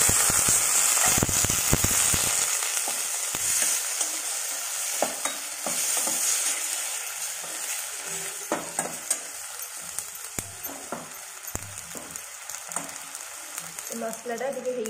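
Ginger garlic paste frying and being stirred in a pan, with a steady close sizzle and scattered scraping taps from the spoon.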